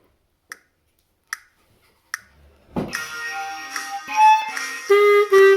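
Three sharp, evenly spaced clicks, then a clarinet enters and plays a slow line of sustained notes that swell louder toward the end.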